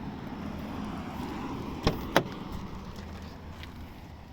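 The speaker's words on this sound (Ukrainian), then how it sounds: "Двері чітко закриваються." Two sharp thuds about a third of a second apart as the doors of a 2005 BMW 316i with a 1.8 petrol engine and automatic gearbox shut firmly, close by, over a steady low background hum.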